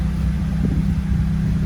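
Alfa Romeo 159 2.2 JTS petrol engine running just after a start on a flat battery, a steady low idle rumble heard close and fairly loud for a brief moment.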